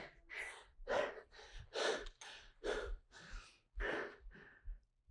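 Heavy, loud breathing after a short burst of hard exercise, nine or ten deep rhythmic breaths in close succession, each a strong rushing gasp, close to the microphone with no talking.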